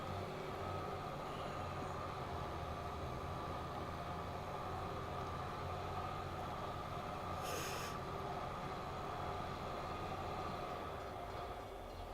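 A train passing near a farm field, a steady low rumble and rolling clatter that persists throughout, with a brief high squeal or horn-like burst partway through, heard over engine-like noise.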